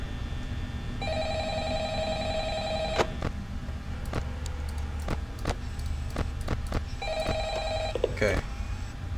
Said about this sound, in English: we got a phone call again